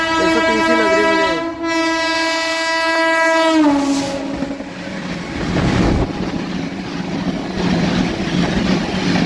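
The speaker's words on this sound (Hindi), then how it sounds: "निकल गई लाल कुआं एक्सप्रेस।" The Lal Kuan Express rushes past on an Indian rail section near Ludhiana, opening with a loud sustained horn blast that drops in pitch, then a close roar of wheels and clattering carriages.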